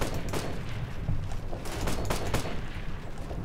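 Rapid gunfire in the military shooter game Operation Flashpoint: Red River, with several close, loud shots and bursts in an irregular pattern over a dense background of battle noise.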